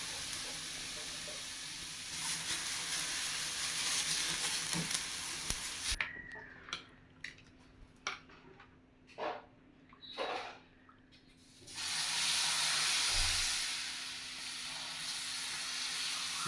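Ragi dosa batter sizzles loudly on a hot griddle in a steady broad hiss, breaking into a few short pops and spatters in the middle before the full sizzle returns.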